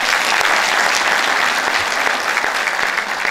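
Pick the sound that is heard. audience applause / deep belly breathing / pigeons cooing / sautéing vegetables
audience applause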